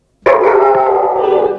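Dogs let out a loud, sustained howl that starts abruptly and holds steady, close and alone with no talking.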